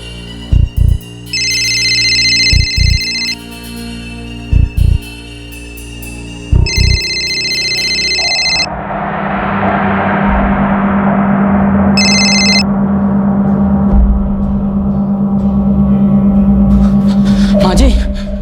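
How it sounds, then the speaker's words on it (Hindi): A telephone rings upstairs in a house, several repeated electronic ring bursts heard at a distance, followed by a swelling dramatic music bed with a low sustained drone. "रिंग तो ऊपर ही बज रही है"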